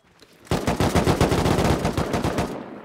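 Automatic rifle fire in the survival game Rust, a loud, rapid burst of close shots rattling off in steady succession for about two seconds before cutting off.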